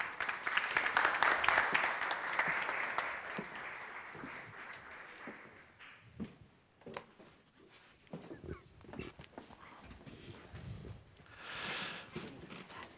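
Audience applause for panel speakers at a regenerative-tourism fair panel, a burst of clapping that fades after a few seconds, followed by scattered sounds and murmuring voices.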